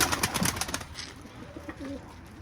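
Pigeons in an office coop give soft cooing calls and a brief burst of fluttering wings at the start, then settle into low murmuring coos close by.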